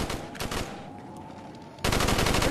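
Rapid automatic gunfire in the VR zombie shooter game Contractors: a fast burst of close, loud shots, a short pause, then another sustained burst.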